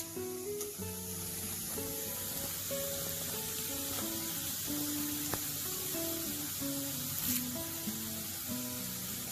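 Curry leaves sizzle in hot oil as they go into a Kerala dried fish curry, a steady bright frying hiss under soft background music.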